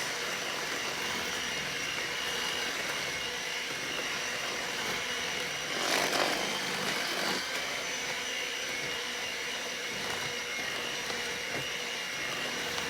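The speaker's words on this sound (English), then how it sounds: "I normally will use my hand mixer a lot." Electric hand mixer running steadily while mixing honey bun cake batter made from a box mix, a continuous high motor whine with a slight surge midway, with no talking.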